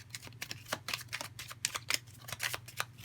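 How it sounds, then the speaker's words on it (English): Tarot cards are shuffled by hand in a quick run of crisp riffles and flicks, close and fairly loud, with brief pauses between bursts and a low hum beneath. "I feel like I want to shuffle again."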